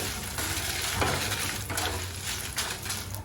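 Mustard seeds and dried red chillies fry in hot oil for a tomato chutney, a steady crackling sizzle with scraping stirs of a spoon against the pan, close and continuous.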